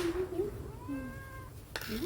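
A kitten gives one clear rising-and-falling meow close by, with brief rustling and handling noise around it.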